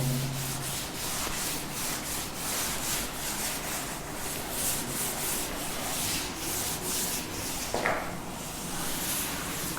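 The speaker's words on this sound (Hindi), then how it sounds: "इसको थोड़ा रब कर देता हूँ" Quiet, steady rubbing of writing off a board during a classroom lesson, repeated scrubbing strokes with a short knock near the end, no talking.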